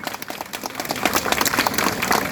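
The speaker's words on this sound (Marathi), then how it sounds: "त्याच्यासाठी इतक्या जोरदार टाळ्या वाजवा की झाडाची पानं हल्ली पाहिजे" An outdoor audience at a joggers' club gathering applauds a singer with brisk, dense clapping that swells and holds steady for a couple of seconds, fairly close.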